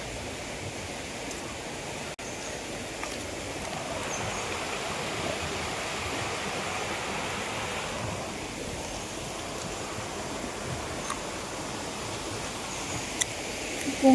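Stream water flows outdoors in a steady, even rush of broadband noise that stays constant throughout, with no voices.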